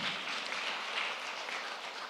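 An audience at a climate change summit stage claps continuously in a dense, even wash of hand claps, steady and moderately loud with no voices over it.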